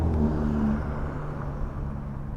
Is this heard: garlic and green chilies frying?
no